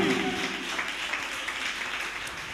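A church congregation clapping their hands together, a faint, continuous patter of many hands blending into a soft wash within a reverberant hall.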